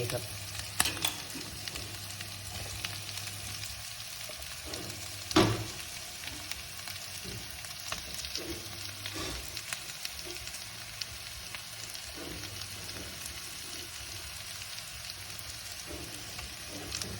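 Steady sizzling of sliced champignon mushrooms frying in a pan with softened onion, with occasional scrapes and clinks of stirring and one sharp clank partway through.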